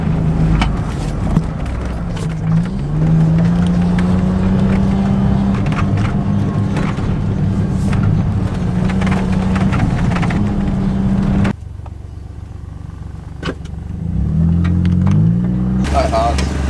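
A John Deere Gator utility vehicle drives through a farm field, its engine a steady close drone that drops to idle near the end before rising again, with people talking over it.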